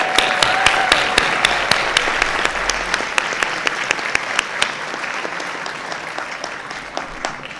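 Audience applause at a school board meeting: a steady wash of many hands clapping continuously, fairly loud and close, with a few sharper individual claps standing out as it slowly tapers.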